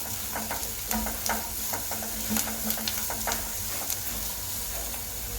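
Chopped carrot frying with onion in a pan for veg pasta gives a steady sizzle, broken by repeated scraping and stirring clicks, close and continuous with no talking.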